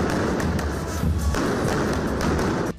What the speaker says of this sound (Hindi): लोगों ने प्रदर्शन करते हुए ड्रम भी बजाए।